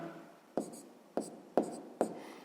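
Handwriting on paper, a few short scratchy strokes at a steady pace, each starting with a small tap, close up and soft with no voices.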